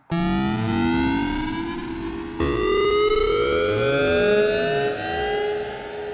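A steady synthesizer tone with a metallic, ring-modulated timbre, its partials gliding up and down in sweeping arcs, loud and continuous with a brief break midway.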